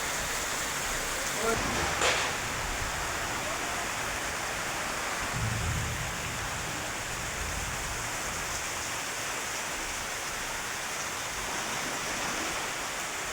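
Water from the first monsoon rain running along a road, a steady hissing wash of moderate level with a faint low rumble of thunder in the sky.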